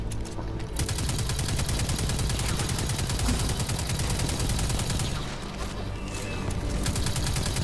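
Sniper and other gunfire in the video game Destiny 2 crackles in rapid, continuous bursts throughout, loud and dense with no pauses, as if from a heated firefight.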